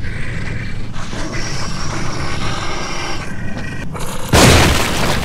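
A single loud gunshot in The Evil Within fires by accident near the end, a sharp close burst over a low, rumbling game ambience.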